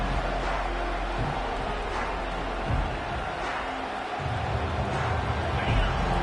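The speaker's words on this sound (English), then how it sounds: "This crowd, full throat, spreading the eardrums and letting them know it's going to be a long day." Stadium crowd in the College Football 25 video game roars in a steady, dense wash of noise, with broadband babble and cheering swelling slightly throughout, under a commentator's voice.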